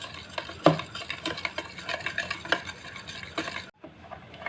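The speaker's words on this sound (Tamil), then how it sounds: "இந்த மாதிரி நல்லா மிக்ஸ் பண்ணிக்கோங்க." Milk peda mixture being stirred with a spoon in a pan: steady scraping, swishing and occasional clinks, close and continuous, with no voices.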